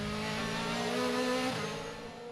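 On-board engine sound from Matthias Ekstrom's DTM race car during a 2016 race at the Lausitzring: a loud, steady high-revving note that drops sharply as he shifts down through the gears, then continues at a lower pitch.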